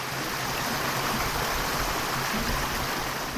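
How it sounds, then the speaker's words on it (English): Snow-melt runoff water flowing steadily near Chadwick Point on East Grand Lake in Weston, Maine, a continuous broadband rush like a small stream, close and even throughout with no voices. "Winter runoff from the snow"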